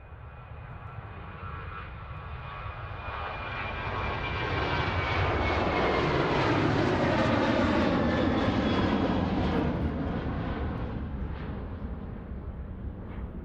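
A Boeing 777-300 freighter twin-jet at Anchorage's Ted Stevens International Airport produces a loud, sustained engine roar with a rising whine. It builds to a peak midway and stays powerful throughout, with no speech.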